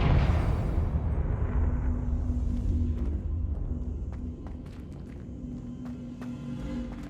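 A Confringo fire spell blast in Hogwarts Legacy hits with a loud, deep explosive burst that rolls off into a rumbling decay, followed by scattered lighter impacts and crackles.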